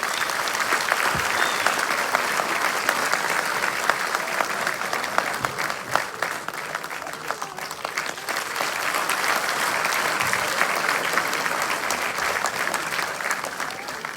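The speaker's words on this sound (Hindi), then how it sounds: "जोरदार तालियां प्लीज।" Sustained audience applause filling a hall at a CSS Day 2023 ceremony at Ambedkar International Centre in Delhi, steady and dense for the full stretch with only a brief dip midway.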